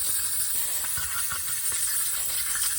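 Steady hiss of aerosol carb cleaner sprayed onto the carburetor of a 1970 Dodge D300 dump truck, a continuous close spray with faint clicks and rattles underneath, no voices.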